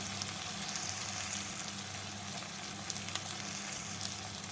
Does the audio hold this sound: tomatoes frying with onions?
yes